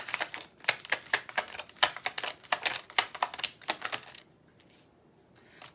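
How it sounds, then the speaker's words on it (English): Tarot cards are shuffled by hand, a rapid run of crisp, irregular clicks and flutters for about four seconds before it tapers to a few soft taps. No voices are heard. "Let's see if I can shuffle them the right way now."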